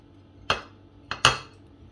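A kitchen knife chopping a tomato into small cubes on a board, three sharp knocks, one early and a close pair near the end, crisp and near with quiet between.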